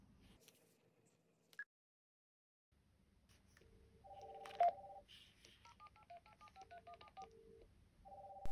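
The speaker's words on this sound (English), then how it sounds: "we'll be using the BT landline to ring the mobile phone" A BT landline phone dials out to a mobile, with a run of distinct touch-tone beeps sounding one after another after a brief silence, fairly quiet and clean, followed by the start of a ringing tone.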